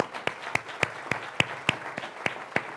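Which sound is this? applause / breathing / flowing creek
applause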